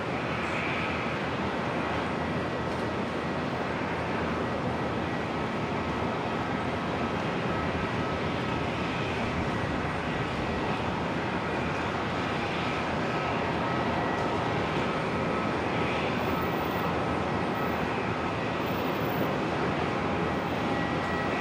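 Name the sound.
Embraer E190 jet airliner at Brisbane Airport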